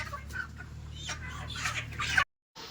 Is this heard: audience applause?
no